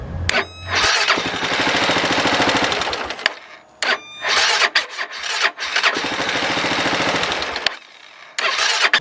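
A Kawasaki KLR 650 motorcycle cranks on its small electric starter in three long labored grinding bursts separated by short pauses, loud and close, without fully catching.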